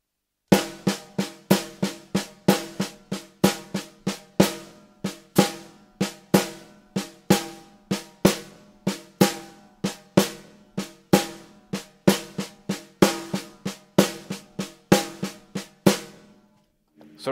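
Drum kit plays a steady shuffle against a click, a long run of crisp, evenly spaced hits with a swung triplet feel that continues for over fifteen seconds, close and alone with no talking.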